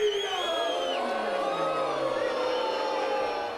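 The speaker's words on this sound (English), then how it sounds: "The crowd very vocal about their dislike of Garzya" A pro wrestling crowd at an event in Nicosia, Cyprus, loudly jeers a wrestler with sustained booing, shouting and falling howls that fill the whole stretch.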